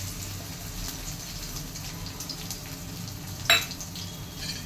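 Crushed garlic cloves frying in hot ghee, a steady close sizzle throughout with one brief sharp clink partway through.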